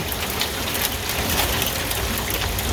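Pea-sized hail from a first hailstorm falls steadily at a septic tank install site, a dense close patter and rattle on surfaces with no voices.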